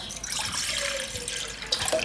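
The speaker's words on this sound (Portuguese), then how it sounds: "nós vamos pegar aqui, ó, 300 ml de água." Water from a tap or jug pours steadily into a container, about 300 ml measured for a cheap gelatin dessert in a home kitchen, a continuous close splashing stream with no talk.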